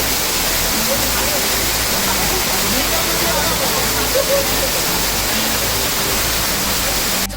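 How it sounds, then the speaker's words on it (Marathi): Waterfall near Khandoba temple in monsoon season, a loud continuous close roar of falling water that fills the whole stretch without breaks. "वॉटरफॉल ला आलेलो आहे हा आहे वॉटरफॉल"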